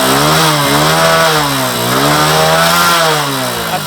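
Motorcycle engine revved hard while parked for a lighting check, a loud, steady high-pitched whine that rises and falls through several rev swells and fills the whole stretch alone.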